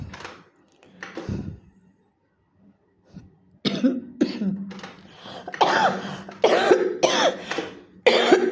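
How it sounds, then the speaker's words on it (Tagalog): Repeated coughing fits, a few isolated coughs early, then a burst of harsh, closely spaced coughs and throat clearing, near and fairly loud. "Inuubo talaga ako."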